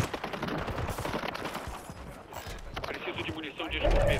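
Automatic gunfire in Call of Duty, rapid bursts of shots mixed with the clatter of footsteps, sitting under ongoing talk from players, with a louder burst near the end.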